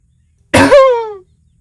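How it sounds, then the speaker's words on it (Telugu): One short, loud human cough bursts out close by and trails off into a brief voiced tail, with silence before and after. "దానికి దగ్గుడు ఎందుకురా?"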